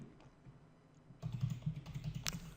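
Code is typed on a computer keyboard in quick, soft, close clicks after a quiet second, keys tapping in an uneven run with no talking.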